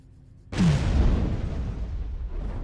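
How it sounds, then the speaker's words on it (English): A breaching charge detonates in the Red vs Blue web series, a sudden loud boom that breaks from near silence into a broad roaring blast and decays slowly into a lingering rumble. "That's a pretty big explosion, to be fair with you."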